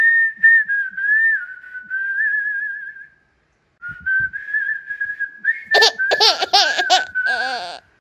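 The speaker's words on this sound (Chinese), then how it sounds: "那如果改吹口哨好了" Someone whistles a melodic tune to a cat, close and clear, in long phrases with a brief pause, followed by bursts of laughter that overlap the last whistled notes.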